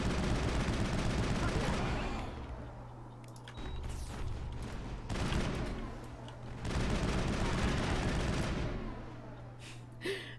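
Assault rifle fire in the Mass Effect game on Eden Prime, with dense, sustained bursts of gunfire forming a loud, continuous roar broken by short lulls, mixed with game sound effects.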